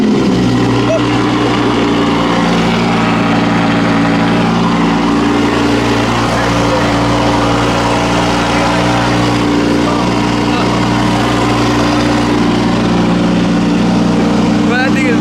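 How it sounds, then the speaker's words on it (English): A 2500hp Nissan GTR engine runs loud and continuous, with steady low rumble and harmonic drone throughout, close up, while people talk over it. "Let's see how loud it is."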